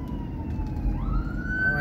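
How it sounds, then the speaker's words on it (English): An emergency vehicle siren wails over a low, steady engine rumble, climbing to a higher, louder tone partway through as it draws nearer. "Always got the police, the fire department, and ambulances going to Harbor Walk."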